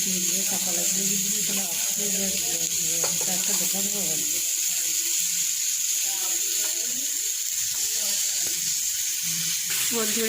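Homemade chow mein ingredients frying in a pan give a steady, close sizzling hiss that runs throughout, with a voice talking over it for the first few seconds.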